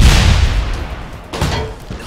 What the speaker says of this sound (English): This explosion was awesome the first time.